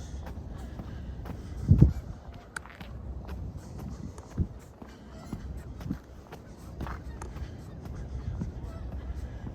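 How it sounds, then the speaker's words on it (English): Geese honk around a lake before sunrise in winter, one loud close burst followed by scattered fainter calls over steady footsteps and outdoor ambience. "more geese"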